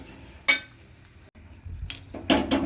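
A metal cooking pot of jackfruit erissery is lifted off the stove, giving a few sharp clanks and clinks spaced across a couple of seconds in a quiet kitchen.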